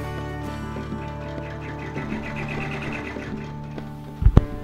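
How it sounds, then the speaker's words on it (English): A sewing machine stitches appliqué fabric with a steady, fairly quiet hum throughout, ending in a couple of sharp thumps near the end. "So we will take it to the machine and stitch it now."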